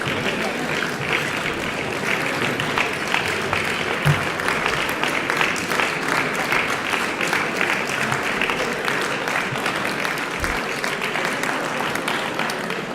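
An audience at a sports trophy ceremony in Soustons applauds a sailing club champion, with steady, dense clapping that runs unbroken for about thirteen seconds.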